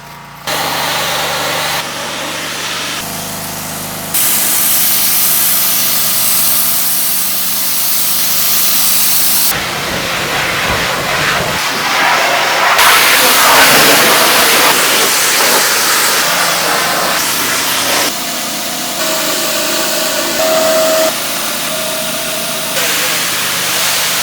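An engine-powered soft wash pressure washing rig runs outside a house with a deck and outbuildings, giving a loud, continuous mechanical drone with hissing spray that shifts in intensity as work moves along.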